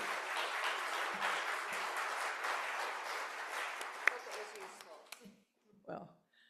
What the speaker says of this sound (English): I think that we should have a roaring applause for the amount of work that Leah has put into this amazing presentation.